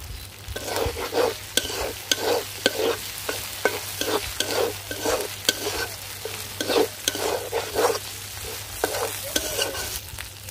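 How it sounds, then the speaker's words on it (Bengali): A spice masala is stir-fried in a pan, a spatula scraping in a rapid steady rhythm over a soft sizzle. The strokes are close and clear, and nobody talks. "মশলাটা ভালোভাবে কষিয়ে নিয়েছি।"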